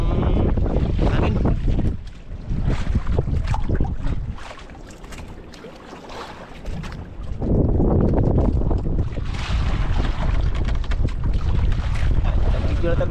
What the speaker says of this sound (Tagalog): dahil sa sobrang lakas ng hangin